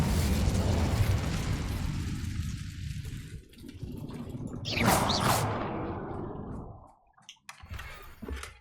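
A fire spell is cast in Hogwarts Legacy, a brief whooshing flare of flame that bursts out over a rumbling background and fades, followed by a few scattered clicks.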